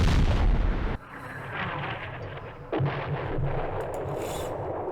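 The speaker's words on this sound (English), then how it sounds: "let's do some firing at maybe the mortars" Game gunfire and mortar-style artillery blasts in the Vietnam wargame Campaign Series Vietnam, Battle of Hue: a loud booming blast that cuts off, then another explosive report followed by lingering rumble, with no talking.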